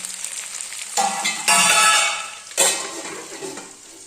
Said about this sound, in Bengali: পনিরের আলুগুলোকে ভালো করে ভেজে নিচ্ছি